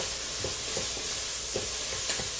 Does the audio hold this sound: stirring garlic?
yes